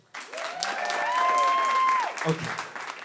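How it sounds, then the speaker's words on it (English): An audience at a live storytelling show breaks into a round of applause that swells over a couple of seconds and then fades, with cheering and whoops rising above the claps. "round of applause if your parents are divorced"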